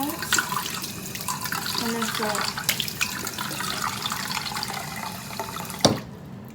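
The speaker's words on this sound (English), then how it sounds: "Okay. Rinse it out a couple times." Tap water runs steadily into a sink while a parrot cage item is rinsed out, with splashing and knocks of the item, a louder clunk near the end, and brief talking over it.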